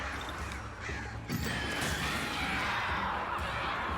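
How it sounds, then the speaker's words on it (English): Crows caw several times over a dense, noisy ambient bed in the horror game Alan Wake, the harsh calls fairly close and repeated as the birds circle overhead. "Oh god, the birds are circling."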